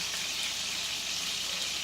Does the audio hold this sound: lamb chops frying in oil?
yes